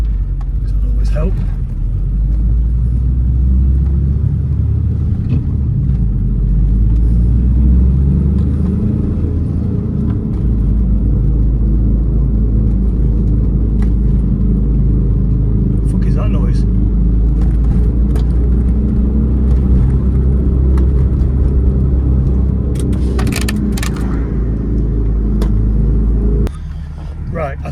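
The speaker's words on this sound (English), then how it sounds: "Right, I think that noise is the speedo cable" Inside a VW Golf MK2 while driving, a steady deep road rumble and engine drone carries on throughout, and faint intermittent higher ticking or whirring from the speedo cable shows now and then. The noise stays loud and close with no talk.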